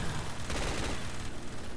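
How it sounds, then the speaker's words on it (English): Rapid gunfire from shooting zombies in Black Ops 3 Zombies, a short dense burst of repeated shots played loud and close with no talk. "I should probably stop shooting zombies"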